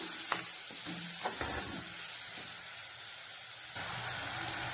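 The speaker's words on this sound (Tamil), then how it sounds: "இப்போ 2ஐயும் சேர்த்து நல்லா வதக்கிக்கணும்." Tomatoes frying with ginger garlic paste in a pan for beef gravy, a steady sizzle with scraping stirring strokes and a few clinks, close and moderately loud.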